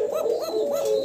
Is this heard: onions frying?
no